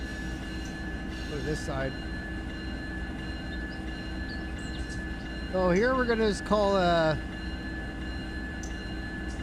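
A train locomotive in the Run 8 train simulator game gives a steady rail rumble with a warbling tonal horn-like blast midway. Someone talks over it throughout.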